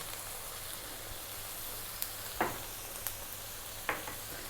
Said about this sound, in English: we're going to now drop in the garlic ginger paste, 2 tablespoons of a garlic ginger paste